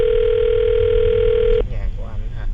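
A loud, steady telephone dial tone hums for over a second and a half, then cuts off abruptly, followed by quieter line noise as a radio show places a call.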